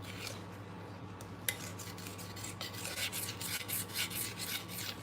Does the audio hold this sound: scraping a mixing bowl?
yes